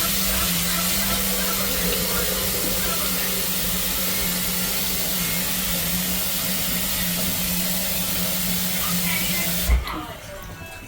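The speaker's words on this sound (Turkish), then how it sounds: "Şuraya suyunu da koyayım. Hani makarnanın suyunu da koyayım." Water runs in a steady, close rushing hiss as it fills a pot for cooking pasta, continuing unbroken for several seconds before cutting off abruptly near the end, with someone speaking briefly afterward.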